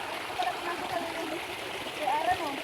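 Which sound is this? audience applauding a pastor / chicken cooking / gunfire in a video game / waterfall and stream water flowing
waterfall and stream water flowing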